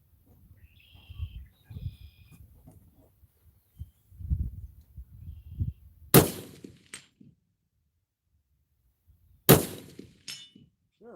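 Rifle shots fired while zeroing at a distant target with 55-grain ammunition, two sharp loud cracks a few seconds apart, with low murmured talk and quiet handling noise in between.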